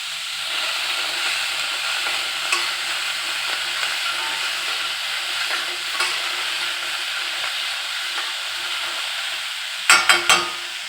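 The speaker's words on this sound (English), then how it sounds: "first, I'm going to put the vegetables in here and kind of start cooking them a little bit" Vegetables cooking in butter in a pot for clam chowder give a steady broadband sizzle with occasional stir scrapes, ending in a short burst of sharp clatters near the close, no voices.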